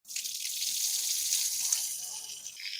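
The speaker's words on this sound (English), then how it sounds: "So I'm trying to wash this with some pressure water, the fresh water, nothing else from the tap." Fresh tap water runs under pressure over a watch bezel being washed, a steady close hiss of splashing water that starts abruptly and continues evenly with no talk.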